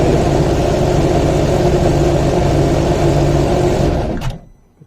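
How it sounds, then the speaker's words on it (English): A Sea-Doo Fish Pro engine cranks and runs loud and steady up close, then cuts off abruptly near the end, leaving near silence. "Crank it again."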